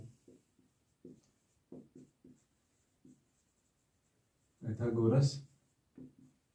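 Pen or marker strokes writing out a Pythagoras theorem solution in a Class 8 mensuration lesson, a run of short separate scratches with a louder, longer rubbing stroke near the end, close and clear with no talk.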